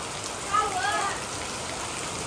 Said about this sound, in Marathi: कसा पाऊस आहे